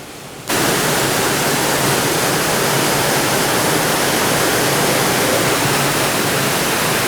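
A waterfall in the gorge at Watkins Glen State Park, New York, roaring loudly and close in the rain, a dense unbroken rush of falling water that starts abruptly and holds steady throughout.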